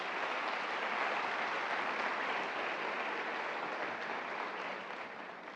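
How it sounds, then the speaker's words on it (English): Audience applause filling a school convocation hall, dense steady clapping from many hands that holds evenly, then thins slightly near the end. "I didn't do that for an applause,"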